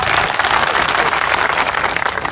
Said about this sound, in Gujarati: એકવાર જોરથી તાળીઓ પાડો.